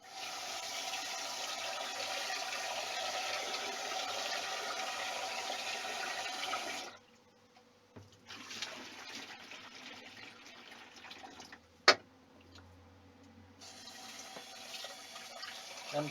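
Tap water runs steadily for several seconds, stops, then resumes in bursts with a sharp clink in between, as pre-boiled rice is rinsed in a pot.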